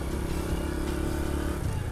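A 1991 Honda Astrea Grand motorcycle's small engine runs steadily at idle or low speed, a continuous rough mechanical chug with clattering texture, close and fairly loud throughout.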